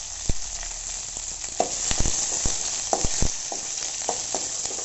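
Finely chopped onions and curry leaves sizzle steadily in hot oil with fried lentils in a pan, with close crackling pops and occasional stirring knocks for about five seconds and no talking.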